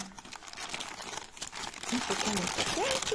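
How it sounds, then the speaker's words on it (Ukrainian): Crinkling plastic packaging as an embroidery kit is unpacked, the rustle continuous and close, growing busier in the second half, with someone talking over it. "і тепер зараз розпакую"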